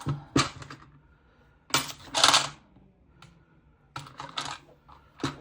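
A four-sided die rolled across a tabletop during a coin savings challenge, making several short bursts of light clicking clatter separated by quiet pauses, close and fairly crisp.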